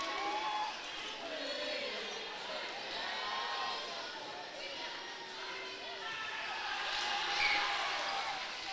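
Green Canyon high school basketball fans cheer steadily from the stands at a game against Mountain Crest, a broad continuous crowd roar with a swell near the end and no clear talk over it.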